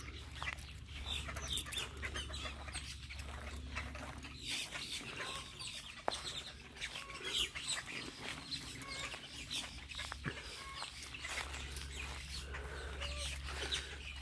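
Chickens on a seven-acre farm cluck and chatter steadily at moderate distance, with occasional sharper calls over a low background hum.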